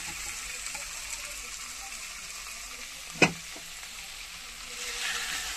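Bombay duck fish with spices frying in a pan, a soft steady sizzle with a brief louder splash or stir midway, close and fairly quiet throughout.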